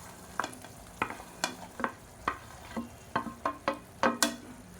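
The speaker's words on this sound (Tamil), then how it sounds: "இப்போ நம்ம வதக்கி வச்சுருக்க இந்த வெண்டைக்காயை சேர்த்துக்கலாம்." Sliced okra in an oily yogurt-based masala is stirred and sautéed in a pan, the spoon scraping in a steady series of about a dozen short, crisp strokes over a quiet sizzle, close up with no talking.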